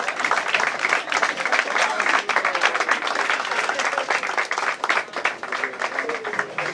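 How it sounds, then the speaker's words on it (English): Church audience standing and applauding to welcome a reverend, dense sustained clapping from a crowd that stays loud and fairly even throughout. "let's all be on our feet and welcome Reverend Asamoah. Give him a big applause"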